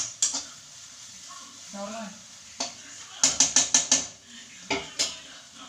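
A utensil stirs a chicken roast in a pan after thinned coconut milk goes in, giving several sharp metallic scrapes and knocks against the pan, including a quick run of taps, over a faint background sizzle.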